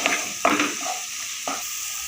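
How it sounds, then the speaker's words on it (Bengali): Sambar masala sautéing in oil for a katla fish curry, a soft continuous sizzle with two or three brief louder stirring scrapes in the pan. "মশলাটা আমার কষানো হয়ে গেছে তেল ছেড়ে বেরিয়ে এসছে"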